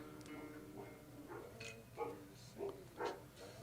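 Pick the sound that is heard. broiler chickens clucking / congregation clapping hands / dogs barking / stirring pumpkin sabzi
dogs barking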